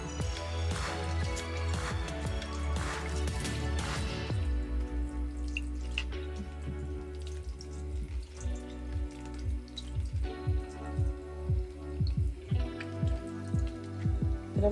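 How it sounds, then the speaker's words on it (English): Water from a tap runs steadily over a makeup brush being rinsed in a sink, with dripping and splashing that starts loud and full, then thins into softer, intermittent trickles and drops. "And then I'm gonna rinse it."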